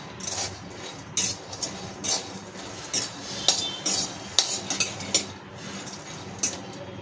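Peanuts roasting in a pan on low heat, stirred with a metal spoon that scrapes and clinks against the pan in irregular bursts over a quiet background.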